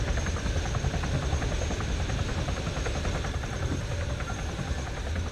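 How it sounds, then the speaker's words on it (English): In a combat video game, an enemy helicopter's steady rotor thrum and engine whine drone continuously overhead at moderate volume, with no talk. "Enemy chopper in the air."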